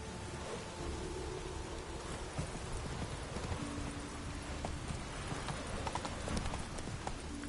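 Roach the horse galloping in The Witcher 3, quick rhythmic hoof clip-clops over a soft rain-like wash, fairly faint and continuous, with a faint voice in the background.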